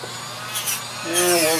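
A small rotary tool fitted with a little green sanding wheel, used to clean up a seam on a sculpted squid bishop figure, whines steadily at close range, rising in pitch and strength toward the end.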